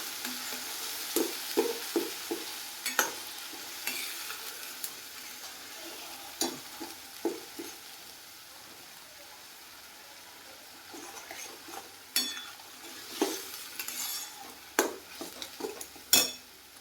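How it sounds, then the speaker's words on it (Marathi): Chole masala with green chillies roasting in a pan over a low flame, with soft intermittent scraping and stirring taps over a faint steady sizzle, close and fairly quiet with no talk. "हे छानपैकी मंद आचेवर भाजून घ्यायचं."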